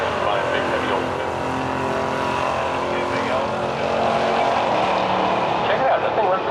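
An Oldsmobile drag racing car idles and runs at a street drag race, its engine giving a steady, loud, rough rumble that swells slightly toward the end.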